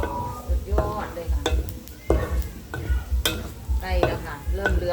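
Pork rinds frying in oil in a home kitchen, a bubbling sizzle beneath repeated rhythmic stirring and scraping strokes with low thumps, close and moderately loud, no talk.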